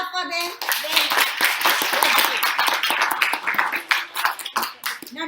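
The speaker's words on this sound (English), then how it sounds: "Clap for them" Students at a quiz competition clap for a team after a correct answer, a brisk, close burst of handclaps that continues under an adult voice talking.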